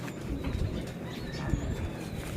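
Pigeons cooing softly nearby, low murmuring calls repeating under a bed of background noise.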